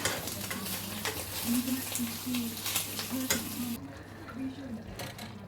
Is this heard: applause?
no